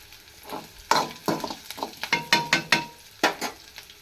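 Bombay rava (semolina) roasting in a pan, with a series of sharp scraping stirs and light sizzling bursts at an uneven rhythm, close and fairly loud, with no talk.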